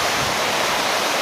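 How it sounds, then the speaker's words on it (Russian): Nikhaloy waterfalls in the mountains of Shatoy district, Chechnya, roar as a steady, loud broadband rush of falling water, continuous and unbroken with no voices. "Это Нихолойские водопады"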